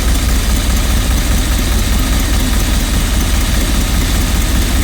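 A Rolls Royce Silver Spirit engine idles loud and close with a steady low rumble and faint uneven pulsing from a slight misfire, and there is no talking.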